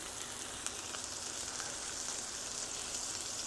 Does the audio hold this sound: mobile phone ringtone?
no